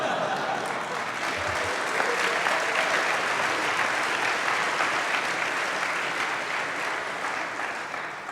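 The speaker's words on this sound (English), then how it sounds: "I thought for sure that it'd get a lot of applause." Steady, dense applause from a chapel audience at a college talk fills the whole stretch, even and fairly loud, easing slightly at the end.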